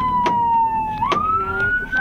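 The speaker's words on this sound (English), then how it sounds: "That's our first siren" A fire engine siren wails steadily at a distance, its pitch gliding slowly with a couple of brief sharp bursts cutting across, during a mock fire response.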